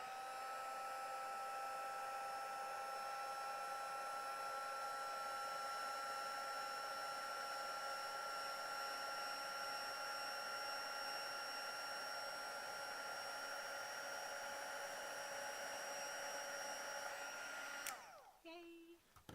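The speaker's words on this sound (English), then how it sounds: "Let's heat this up. I love the magic of heat embossing." A heat embossing tool blows a steady, loud, whining hum for about eighteen seconds while it heats embossing powder on a crafting card, then switches off abruptly.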